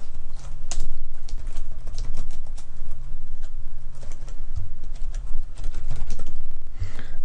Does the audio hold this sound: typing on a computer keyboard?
yes